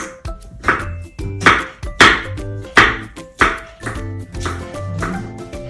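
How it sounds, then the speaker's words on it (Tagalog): A knife chopping food into small pieces on a board, six or seven firm, evenly spaced chops, close and loud, with no talk over them. "So now we'll chop it like this. I'm just chopping this"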